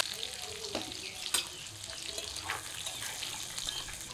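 Pieces of katla fish fry in hot oil in a wok, a steady soft sizzle with occasional sharper pops and spatters, without talk.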